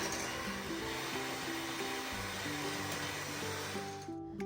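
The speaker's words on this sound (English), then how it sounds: "use an electric mixer to beat the eggs until they are light and fluffy" Three eggs being beaten in a large mixing bowl with an electric mixer, a steady loud whirring drone with a shifting motor pitch, close by and continuous until it cuts off at the end.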